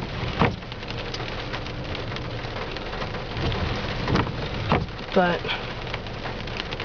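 Steady heavy rain drums on a surface during a thunderstorm, with a low rumble of thunder beneath; a few brief knocks and a short voice cut through the constant wash.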